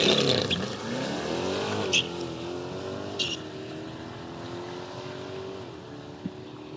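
A stock Chevrolet C8 Corvette makes a drag-strip run, its engine note climbing steadily in pitch with brief breaks between gears. A couple of sharp clicks cut through the continuous roar.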